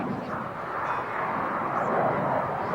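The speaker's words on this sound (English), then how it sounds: "The thrust, already said that it's a Rolls-Royce Pegasus engine directed into 4 jet nozzles" Harrier jump jet with a Rolls-Royce Pegasus engine performing at the 1999 Woodford Airshow, a steady loud roaring jet rumble that swells slightly, heard from a distance across the airfield without talk.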